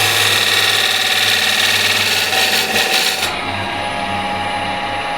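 Wood lathe spins an apple-shaped piece while a ball gouge cuts into it, giving a steady droning hum with a rough cutting rasp that stops partway through, leaving the motor running alone.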